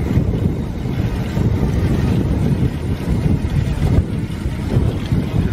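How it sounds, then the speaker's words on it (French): Steady, heavy headwind buffeting a microphone while cycling with a caravan in tow, a dense low rumble that stays loud throughout with slight surges, no voices. "Alors, on a le vent de face"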